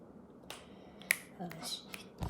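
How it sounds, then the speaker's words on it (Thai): A handful of sharp finger snaps, one standing out loud and crisp, spaced irregularly against a quiet room background with no talking. "ยังดีดนิ้วดังเหมือนเดิมนะทุกคนนะ"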